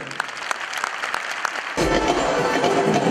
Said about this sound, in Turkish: Hepsine kocaman bir alkış rica edeceğim.